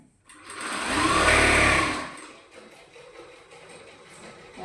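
A sewing machine runs in one steady burst of about two seconds while stitching a folded nightie seam, close and loud, then a quieter mechanical hum lingers afterward.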